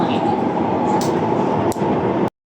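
An MRT train runs at a Singapore metro station with a steady loud rumble and hum, a couple of sharp clicks, and a brief cut to silence near the end; indistinct talk may sit underneath.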